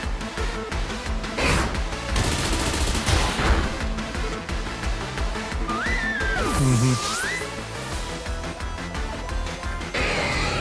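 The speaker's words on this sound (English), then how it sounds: "flash cannon should be hitting Alcremie now" Flash Cannon attack striking Alcremie in Pokemon Scarlet, a steady burst of blasting, crashing game effects with a rising tonal sweep midway, loud and continuous against busy battle music.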